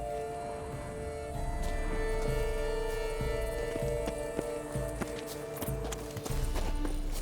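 Horse hooves clip-clop in a loose, irregular rhythm in The Witcher 3: Blood & Wine, over a steady electronic hum and a busy background of game sound effects.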